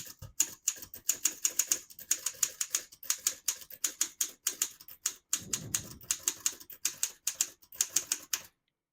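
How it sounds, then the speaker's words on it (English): Rapid, crisp clacks of a 1935 Underwood Universal portable manual typewriter, keys struck in quick bursts with short pauses and a heavier thunk midway, close up. "I'll type a sentence on this next line"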